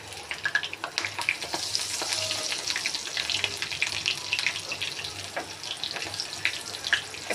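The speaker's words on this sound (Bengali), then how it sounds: "সবগুলো পাকোড়া এভাবে করে ভেজে নেব" Raw banana pakoras crackle and bubble in hot oil on medium heat, a busy, close sizzle with scattered sharp pops running the whole way through.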